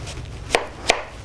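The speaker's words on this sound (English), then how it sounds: "I'm going to cut them into slices about 1/4 inch thick" A knife cuts sweet potatoes into quarter-inch slices, two crisp sharp chops on a board spaced about a third of a second apart over a low steady hum.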